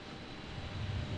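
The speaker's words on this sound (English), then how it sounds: "Little Delta CRJ finally getting a move on here." A Delta CRJ regional jet taxis at Raleigh-Durham International Airport in stormy weather, giving a steady, low, droning engine rumble that swells slightly over a brief moment, with no talking.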